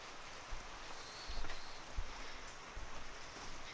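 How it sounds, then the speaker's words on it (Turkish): Steady rain hisses continuously on a garden gazebo, with occasional heavier drips and taps landing nearby. "Yağıyor yağmur."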